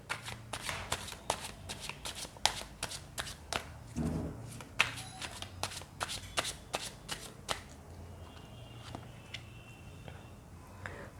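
Tarot cards shuffled by hand at close range, a steady run of crisp riffling slaps and flicks that keeps a quick, uneven rhythm for several seconds before easing into lighter, sparser taps.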